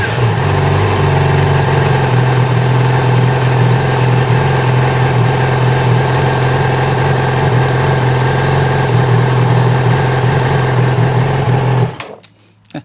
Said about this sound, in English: it's worth just doing another test fire up to make sure the faults are clear.